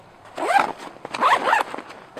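Two quick zips on a Maxpedition backpack's fray-resistant admin pouch, each a short rasping pull close to the mic, separated by a brief pause.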